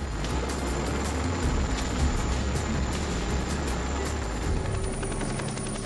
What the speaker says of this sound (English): The helicopters release flares as a countermeasure.